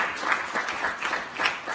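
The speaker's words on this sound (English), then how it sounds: "can we clap hands once more for the President for those words of wisdom?" A crowd at a CAF Executive Committee meeting in Kigali applauds the President, giving a brief burst of steady hand clapping from many people in a room.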